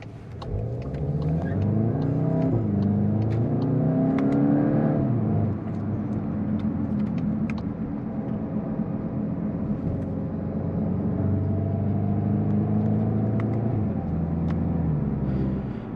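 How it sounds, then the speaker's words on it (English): A 2023 Volkswagen Golf GTI's engine revs on the autobahn, a loud continuous drone close at hand that climbs in pitch through the first seconds, drops back as it shifts, then holds a steady note with synthetic sound enhancement. "Volkswagen's sound doctor, their enhanced engine note, does a good job being enhancing the sound of this engine without being too fake, too intrusive."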